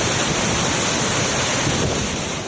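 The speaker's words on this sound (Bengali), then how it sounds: "এই ঝড়, বৃষ্টি, হাওয়া সব কিছু মাথায় নিয়ে রাস্তায় নেমেছি" Storm wind and heavy rain lash a roadside in Meghalaya, a loud, dense, unbroken roar of gusts and downpour buffeting the microphone.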